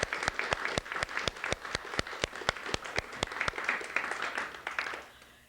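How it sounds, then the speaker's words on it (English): Enthusiastic audience applause at the 2004 PEGASYS Awards ceremony, a dense crowd of clapping with sharp regular accents throughout, fading out near the end. "if we just give a big round of applause for Mike and Chris and Christine"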